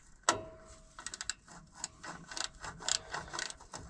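A ratchet wrench clicks in quick irregular bursts during a water pump replacement on an International 4366 tractor, after one sharp metallic clack, all faint and close-up.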